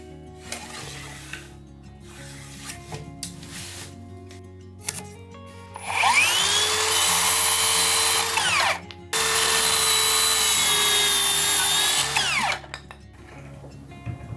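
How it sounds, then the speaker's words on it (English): An electric planer shaves wood down toward a half-round shape, making two loud sustained whining passes of about three seconds each, with quieter tool handling and clatter before them. "I plane it with an electric planer until it's half round."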